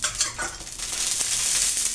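A traditional Maharashtrian curd dhapata flatbread goes onto a hot griddle and sets off a close crackling sizzle that swells into a bright, continuous hiss over two seconds.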